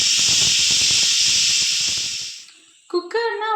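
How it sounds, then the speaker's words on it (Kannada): A pressure cooker cooking lentils on a gas stove vents a loud, steady hiss of steam that fades, then a sharp whistle blast rises at the end, close by. "3 ವಿಷಲ್ ಕೂಗಬೇಕು"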